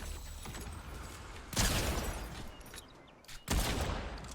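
Two sharp bursts of assault rifle fire in a shooter video game, each a quick volley about two seconds apart over a steady low game ambience, fairly close and loud, with no talk.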